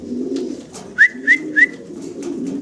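Pigeons cooing in a fancy pigeon loft, low soft coos running underneath three short, bright, whistle-like calls in quick succession, close by with no talk.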